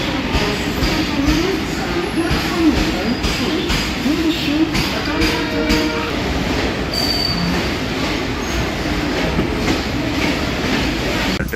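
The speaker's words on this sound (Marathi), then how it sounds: "बरोबर 1 वाजता आमची ट्रेन पनवेलवरनं निघाली आहे" Konkan Railway special train running at night after leaving Panvel, with a steady loud rumble of wheels on rails, occasional squeals and clatter heard from inside a coach, and people talking faintly beneath it.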